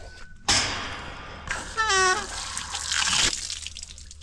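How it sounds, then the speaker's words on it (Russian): Water runs and splashes from a tap in bursts, with a brief higher whine partway through, then the flow cuts off near the end. "Сейчас мне воды надо"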